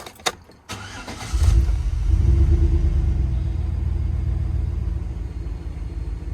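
A car engine with an oil pressure problem cranks briefly after a few clicks, catches and settles into a deep, steady rumbling idle, close and loud, with no talking.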